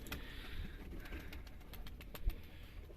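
A young pigeon chick coos softly in a loft, with a few faint, low calls and light fluttering over a quiet background hum of distant engine noise.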